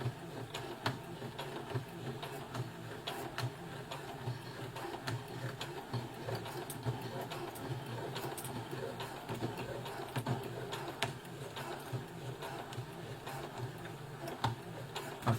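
A Brother FS60X sewing machine hems jeans at slow speed, running in a steady stream of rapid, even ticking stitches with faint mechanical clatter throughout.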